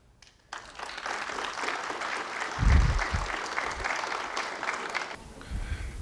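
An audience claps after a lecture presentation, starting suddenly, holding a steady moderate patter for about five seconds, then cutting away abruptly.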